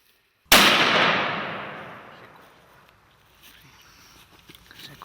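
A single loud gunshot rings out during a wild boar hunt, a sharp crack close by followed by a long decaying echo rolling across open countryside, then faint rustling and movement.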